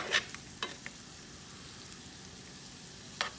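Shrimp frying in a pan with butter and olive oil gives a steady, soft sizzle, with a few brief sharper pops and a scrape of stirring near the start and again near the end.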